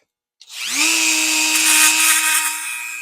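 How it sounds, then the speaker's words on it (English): An old Dremel rotary tool clicks on and spins up to a steady, high, whining drone that holds close and loud, with no talk. "the old Dremel"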